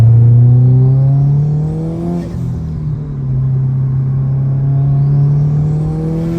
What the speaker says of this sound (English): the turbo whine on this FP Black Turbo sounds so good.